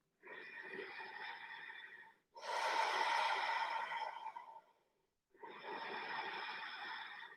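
Slow, steady yoga breathing during a vinyasa flow: three long, airy breaths in and out, close to the mic, separated by brief silences.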